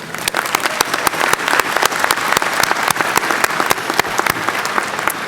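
Steady, dense applause from a large audience at a Radford University spring commencement ceremony, sustained clapping throughout with no pauses.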